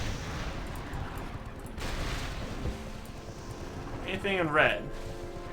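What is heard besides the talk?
cannons firing in World of Warcraft video game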